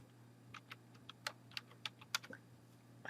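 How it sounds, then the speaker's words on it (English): A password is typed on a computer keyboard, about a dozen soft, separate key clicks in an uneven rhythm, close and quiet over a faint hum. "So all you do then is click in here and type in the password and say submit."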